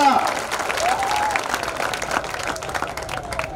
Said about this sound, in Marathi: आपण टाळ्या वाजून सावरकरांच्या या अभियानाला